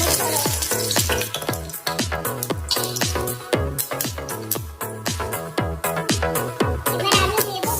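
Whole cinnamon and bay leaf sizzle in hot oil in a pressure cooker, a loud steady crackling spatter running continuously with dense popping bursts throughout.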